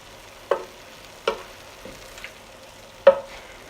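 A mixture seasoned with pepper and oregano being stirred, heard as four or five scattered clinks and scrapes of a utensil against the pot over a faint background hiss, close and without speech.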